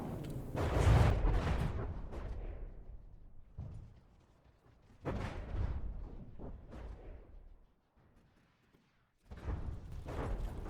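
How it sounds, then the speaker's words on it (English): Missile volley explosions in the From the Depths naval combat game, heard as three heavy rumbling booming bursts separated by near-silent gaps. "Missiles inbound to the Tectonic. Oh my god, that died in like the first missile volley."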